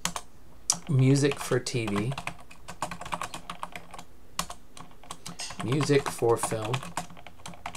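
Clicky computer keyboard typing in short bursts while entering song tags for an upload, heard close beneath someone speaking at intervals.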